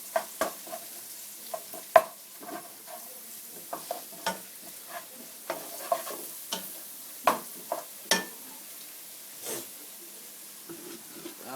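Ginger garlic paste is mixed into a paya curry in a pan, with repeated scraping strokes and light clatter over a quiet sizzle, close and irregular.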